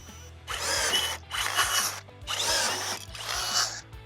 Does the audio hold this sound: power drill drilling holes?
yes